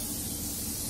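Morphe makeup setting spray released as a fine mist, one steady continuous hiss lasting about a second, close and fairly loud with no voices.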